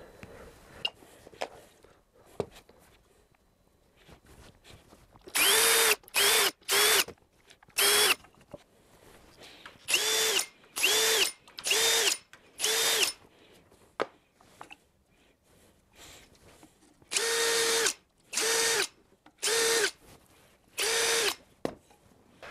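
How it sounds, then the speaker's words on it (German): Power drill boring holes in wood while building a workbench, in repeated loud bursts of about a second each in three groups, separated by quieter pauses with handling noises. "dass ich immer halt am selben Fleck bohre. Das werde ich jetzt 8 Mal machen"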